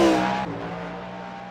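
A Porsche Cup race car's engine blips hard on a downshift coming down the mountain at Mount Panorama, a loud, close, raspy burst whose pitch drops sharply, then settles into a fading rumble.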